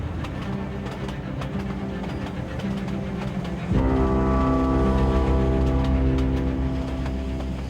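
A locomotive-hauled train in Tasmania's Derwent Valley rumbles steadily along the rails, loud and close, with a sustained mechanical drone that deepens and swells partway through.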